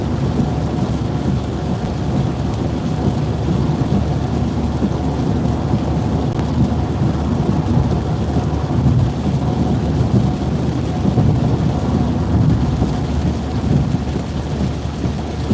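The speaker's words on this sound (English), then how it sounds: "Just trying to get through this rain." Heavy rain pounds down without letup while thunder rumbles low and deep through a storm met while storm chasing in Virginia, loud and continuous with no voices.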